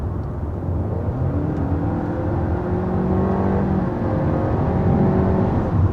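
A 2022 Honda Civic or 2021 Honda Accord with a CVT accelerates hard, its engine drone rising in pitch in several stepped climbs like simulated gear shifts, heard steadily from inside the car.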